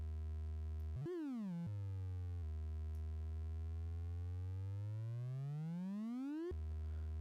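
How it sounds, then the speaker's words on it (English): Synthesized riser built in Reaktor: a buzzy, harmonic-rich tone that chirps up and drops, then holds low and sweeps steadily upward in pitch over several seconds before falling back, fairly quiet with no voices. "Got our riser to get a rising sound."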